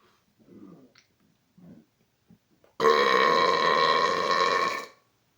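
After drinking Coke Zero Cherry Float, a man lets out one long, loud, sustained belch of about two seconds, preceded by quiet breathing and small mouth sounds.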